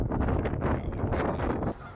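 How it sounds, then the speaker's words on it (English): Geese honk repeatedly outdoors on a very windy day, picked up by a camera's built-in microphone. The calls are loud and layered over heavy, rumbling wind buffeting, then break off abruptly near the end. "you can hear the geese and everything"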